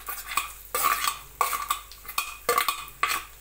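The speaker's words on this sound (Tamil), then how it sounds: "தேங்காய் லைட்டாக வறுபட்டால் போதும்" Grated coconut roasting in a pan alongside cashews, stirred with a utensil for sweet chakkarai pongal; repeated close scraping strokes with light crackle, steady rhythmic bursts, no talking.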